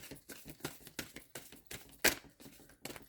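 Small hands shuffle tarot cards with a series of quiet, close taps and light slaps in an uneven rhythm, one sharper snap standing out midway.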